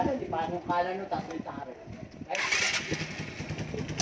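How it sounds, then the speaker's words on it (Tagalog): Someone talks, then a motorcycle engine starts during a stator coil voltage test and settles into a steady, fairly loud idle with a bright hissing hum. "paanda rin natin yung motor"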